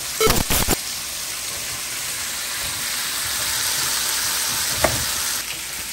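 French fries deep-frying in hot oil give a steady, close sizzling hiss that holds throughout, with a few louder crackles near the start and one brief pop toward the end.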